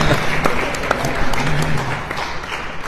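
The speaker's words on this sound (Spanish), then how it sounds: "Un aplauso para Luis Manuel Pimentel." A short burst of audience applause for a guest at a poetry discussion panel in Puebla, Mexico. It is a patchy scatter of hand claps at moderate loudness, with faint room murmur underneath.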